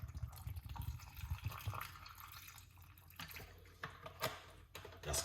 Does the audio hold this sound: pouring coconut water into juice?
yes